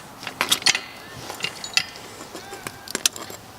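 A ratcheting crimp tool handle squeezed shut on a hose clamp, giving a series of small close clicks and metallic ticks in a steady stepping rhythm, with faint room noise.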